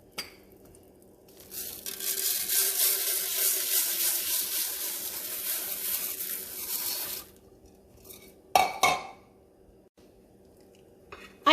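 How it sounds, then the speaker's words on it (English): Rice frying in melted butter and oil on a stove over high heat, stirred in the pan: a broad sizzling hiss for about five seconds, then quieter, with a brief scrape of the utensil near the end. "I'm just gonna stir it around until the rice is completely cooked. It's frying in the oil and the butter"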